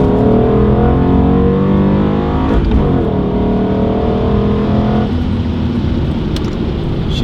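BMW E39 M5 sedan accelerating hard, a loud close engine roar with rising harmonics through gear changes around the middle and later, continuous and alone with no talk.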